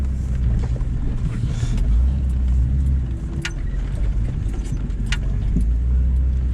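A Jeep nicknamed Judith crawls along a rough off-road trail, its engine giving a steady loud rumble with rattles and occasional knocks from the body and loose items throughout.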